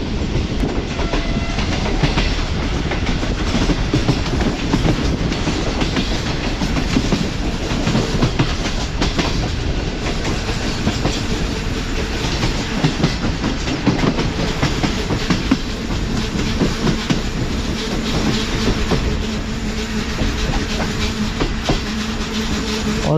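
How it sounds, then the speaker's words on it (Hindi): Shalimar Express train running on rails, a steady loud rumble of wheels on track with faint clickety-clack beats throughout, heard from on board with no talk. "तो ट्रेन हमारी मुरादाबाद से निकल चुकी है"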